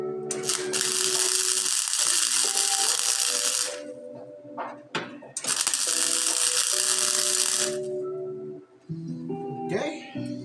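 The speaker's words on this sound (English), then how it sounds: "So let's do a little welding on here." Welding on the driver side of a 1977 Datsun B210, two long bursts of loud, harsh, crackling buzz separated by a short pause, followed by a voice talking near the end.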